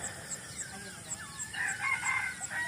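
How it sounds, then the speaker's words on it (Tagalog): A rooster crows at a rural hut in the countryside, a moderately faint, drawn-out call rising over quiet outdoor ambience with small bird chirps. "tilaok ng manok"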